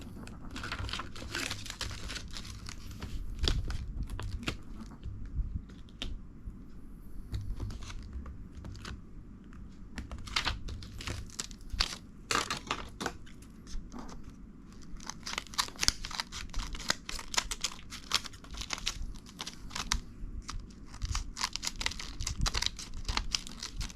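Scissors snipping and trimming the edges of paper stamp sheets up close, a string of crisp cuts and paper rustles with short gaps, heard alone in a quiet room.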